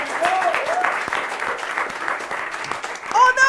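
An audience applauds sponsors, including Métro and Marché Corriveau de Napierville, at a festive event. The clapping is dense and steady with some voices mixed in, and it rises into louder cheering near the end.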